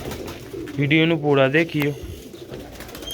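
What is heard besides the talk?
black-faced sheikh pigeons cooing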